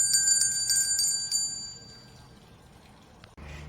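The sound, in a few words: bell rung for Pavlov conditioning demonstration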